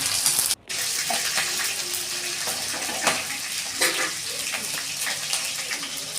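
Green chillies and curry leaves sizzle in hot oil in a home kitchen, a steady broadband hiss with faint crackles and a brief dropout near the start, no talking.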